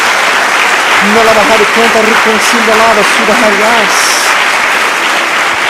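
Church congregation clapping for Jesus during a service, broad steady applause running throughout while a voice sings or speaks over it.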